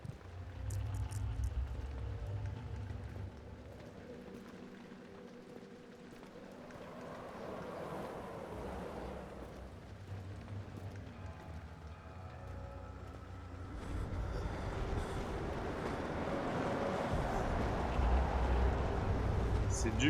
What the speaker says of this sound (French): C'est du vent.